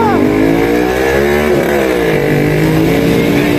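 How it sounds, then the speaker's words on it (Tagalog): A loud motorcycle on a highway, its engine droning steadily and close for the whole stretch, with wind and road noise mixed in and a voice speaking faintly beneath it. "Maingay ang motor!"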